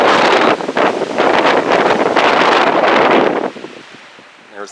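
Strong wind gusts buffeting the microphone on the summit of Tiger Mountain, a loud roaring rush for about three seconds that then drops to a quieter breeze.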